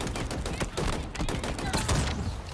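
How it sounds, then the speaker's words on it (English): A scout rifle firing in the video game Halo Infinite: a dense, rapid series of sharp gunshots that runs continuously through the short burst, loud and close. "That's like your scout rifle."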